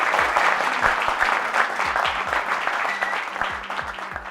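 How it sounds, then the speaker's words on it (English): A trading community event audience gives a round of applause, a steady dense wash of many hands clapping at moderate volume throughout, with a low rhythmic thump of background music beneath. "Round of applause for everyone that actually pushed themselves to come today"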